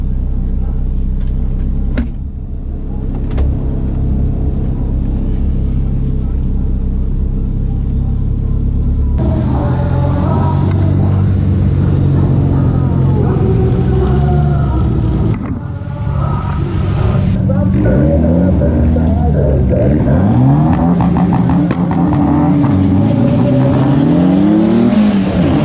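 A DSM car accelerates hard down a drag strip, its engine roaring loud and close with rising revs, a brief dip at a gear change, then continued wide-open acceleration.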